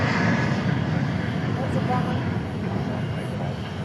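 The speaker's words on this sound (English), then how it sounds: "There was an aircraft on the runway, so this United plane is going around." A United plane goes around at DFW airport, its engines giving a steady, broad roar at moderate distance throughout with no talking.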